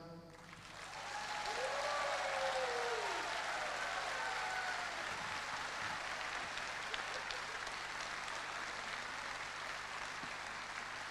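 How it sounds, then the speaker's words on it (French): Concert audience applauding the musicians at a show, a soft, distant, even roll of clapping from a large crowd that swells in and holds steady, with a brief sung or spoken tone at the start. "Et je voudrais aussi qu'on applaudisse bien fort"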